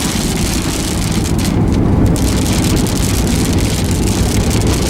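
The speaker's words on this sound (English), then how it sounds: "I'm in the rain and the sun is shining." Steady rain pelts the Rain-X-treated windshield of a car driving on a hilly road. The hiss is loud and continuous, dense and close, with no voices.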